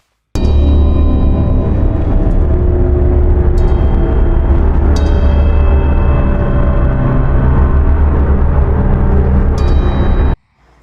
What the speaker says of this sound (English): Now for the Wraith's music.